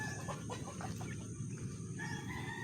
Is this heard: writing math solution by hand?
no